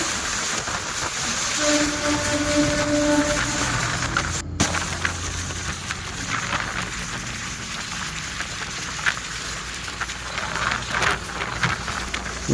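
A long loaded freight train rumbles past with a continuous heavy roar and clatter, steady throughout, with a brief tonal horn-like whine early on.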